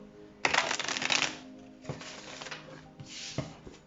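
Tarot cards being shuffled and handled, one long burst of riffling followed by two shorter shuffles, close and fairly quiet with no talking.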